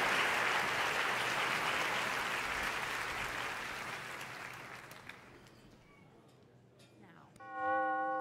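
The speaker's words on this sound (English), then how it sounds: "so just clap it up" Dense applause from a Streamy Awards audience swells loudly at first, then thins and fades out over several seconds, with a few brief unrelated tones at the very end.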